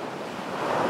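Sea waves washing ashore under steady wind, a continuous near surf wash that swells slightly louder toward the end, with no voices.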